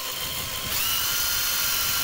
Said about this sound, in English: I'm cheating with a drill, is to drill through here and through the handle.